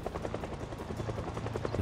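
A helicopter in the video game Project Zomboid flies overhead, its rotor making a steady, loud rhythmic thumping that fills the whole stretch with no speech.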